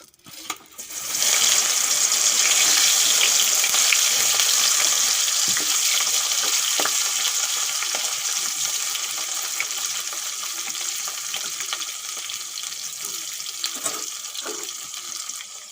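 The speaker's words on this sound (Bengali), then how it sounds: "এখন মেখে রাখা ভেন্ডিগুলো একটু ভেজে নেব হালকা করে" Okra frying lightly in hot mustard oil in a kadai, a loud steady sizzle that starts abruptly and continues throughout, with faint clinks and scrapes under it.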